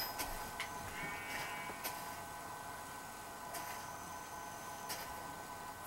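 Sheep bleat in Minecraft, a few short blocky bleats rising out of a steady, busy game background at moderate level.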